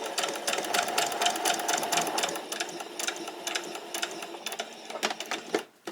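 A sewing machine stitches a pleated top's shoulder seam with a fast rhythmic whir that continues for about five seconds. It slows and pauses briefly near the end before restarting.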